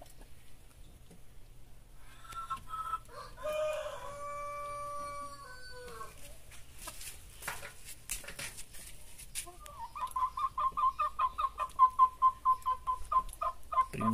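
Black Giant and clown-face chickens, three birds about seven months old including a broad rooster, give drawn-out calls and then a run of rhythmic clucking, with some distant background noise.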